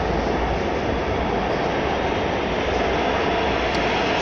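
A metro train in Santiago runs at speed with a loud, steady roar and rumble of wheels and carriage, unbroken and close, with no talk over it.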